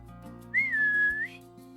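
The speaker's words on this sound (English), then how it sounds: "you hear a high-pitched whistle from kind of above you on the hill" A single high-pitched whistle from above on a hill near a river, one sustained gliding tone lasting under a second over a soft musical backing.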